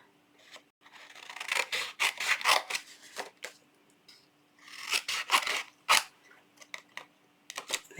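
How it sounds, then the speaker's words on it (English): Scissors snip through a piece of cardstock being trimmed down for a greeting card, giving repeated crisp, rasping cuts in two close bursts with short pauses between. "I'm going to have to cut this piece of cardstock down"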